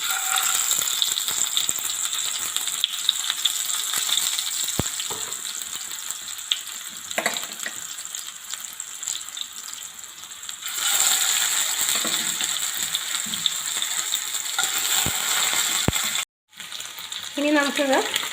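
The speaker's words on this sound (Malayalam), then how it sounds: "ഇപ്പോൾ എണ്ണ ചൂടായിട്ടുണ്ട്. നമുക്കിനി ഇതിലോട്ട് ചിക്കൻ പീസുകൾ ഇട്ട് കൊടുക്കാം." Chicken pieces frying in hot cooking oil for butter chicken masala, a steady dense sizzle and crackle that runs throughout, with a brief dropout near the end.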